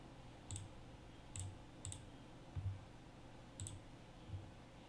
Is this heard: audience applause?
no